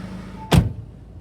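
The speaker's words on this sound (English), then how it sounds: "I'll close that door now." A single solid thud as the door of a 2016 Ford Focus ST3 with a 2.0 TDCi engine shuts, heard close up against a quiet idling background.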